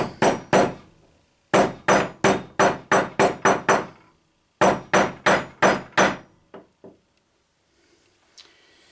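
Copper being hammered flat after being worked back and forth until it snapped: two quick blows, then two loud rapid bursts of ringing metallic strikes with a short pause between, trailing off into a few fainter taps.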